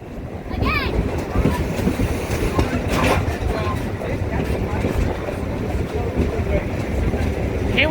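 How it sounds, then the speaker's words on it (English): Southern Pacific 1423 excursion train arrives in Niles, California, a low continuous rumble of rolling rail cars with wind buffeting the microphone and a brief high squeal. "This is where the excursion train will turn around for the return trip to Sunol."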